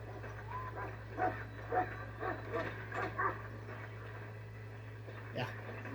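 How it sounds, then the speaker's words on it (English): A dog in the video game Dragon Age: Origins barks and yips in a series of quick, moderately faint bursts over a constant low electrical hum, with distant game chatter around it. "Go solve the dog problem."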